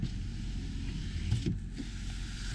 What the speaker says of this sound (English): this button right here is your power lever to operate your rear sliding window